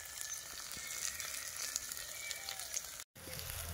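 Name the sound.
spices sizzling while frying in a pan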